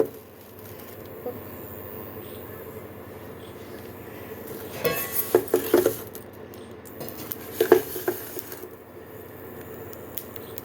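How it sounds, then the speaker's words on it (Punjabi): Whole cumin, fennel and coriander seeds dry roasting in a pan for amla pickle, a soft steady patter under scattered louder scrapes and stirs of a spoon around the middle and again later, fairly close with no talking. "ਸਾਬਤ ਧਨੀਆ ਇਹਨਾਂ ਨੂੰ ਹਲਕਾ ਜਿਹਾ ਡਰਾਈ ਰੋਸਟ ਕਰ ਲਓ"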